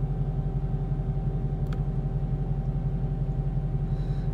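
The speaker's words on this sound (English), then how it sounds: "So here's what happens if I try to engage the trans brake." A Dodge Demon idling with a steady, loud low rumble and even engine pulses while the trans brake is being engaged, with no talking.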